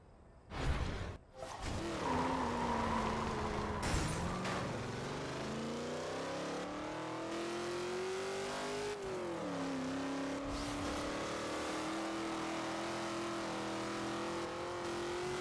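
A car engine revving and accelerating hard in the racing video game Forza Horizon 2, switching from a Ferrari to a Ford, a sustained loud whine that climbs and dips in pitch through gear changes, heard alone without talk.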